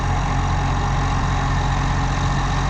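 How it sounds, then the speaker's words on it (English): A tractor's Cummins diesel engine runs steadily close by on farmland during haymaking, giving a deep, even low rumble with no talk over it. "it sounds beautiful though, that Cummins engine."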